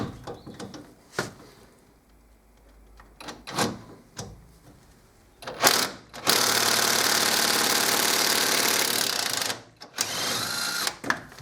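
Pneumatic impact gun working on a front brake caliper bolt of a Fiat Fiorino, a few short bursts and knocks followed by a long loud continuous hammering rattle, pausing briefly and then resuming.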